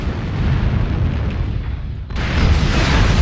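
MRM missile volleys explode against an enemy mech in MechWarrior Online, a dense, continuous rumble of overlapping blasts that briefly dips and then swells louder again.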